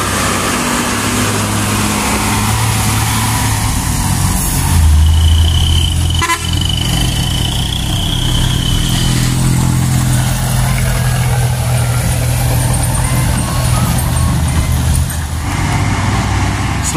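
A Hino TI truck climbing a hill, its engine a steady low drone throughout, with traffic noise and a brief horn toot around the middle.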